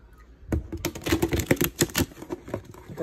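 A deck of thick cardstock playing cards is shuffled close up, giving a quick burst of dense, overlapping flicks and snaps that lasts a few seconds, with no talking.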